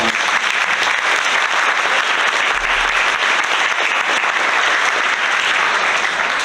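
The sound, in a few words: applause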